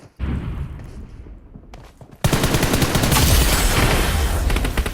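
Gunshots in PUBG: a quieter stretch of game sound, then an abrupt loud outburst of rapid, continuous automatic fire that keeps going to the end.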